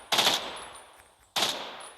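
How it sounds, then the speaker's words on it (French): Two sharp, loud bursts from an M4A1 rifle in three-round burst mode in the Minecraft TACZ mod, about a second apart, each cracking sharply and then fading quickly. "Et qui tire 3 balles par 3 balles"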